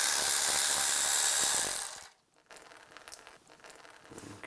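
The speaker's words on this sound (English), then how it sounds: "Now we're going to take the brake hose off the old caliper. I'm just going to use the 11mm socket." A socket wrench works loose the brake hose fitting on the old front caliper of a 1998-2010 Volkswagen Beetle, a steady ratcheting, grinding tool noise for about two seconds before it cuts off, then faint clicks and handling sounds.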